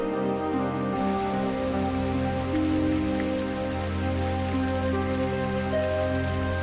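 Heavy rain pours down steadily outside a village house, a dense, continuous hiss of drops hitting surfaces with no letup, while a low, sustained tonal drone runs underneath throughout.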